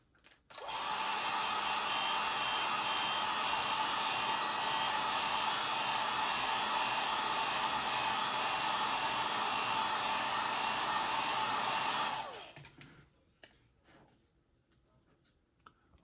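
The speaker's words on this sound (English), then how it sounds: "Mr. Heat Gun should make this a little easier." A heat gun blowing steadily to soften glue on a GPStar 2 kit install in a Hasbro proton wand, a loud, close, continuous whooshing roar for about twelve seconds that cuts off, followed by faint handling clicks.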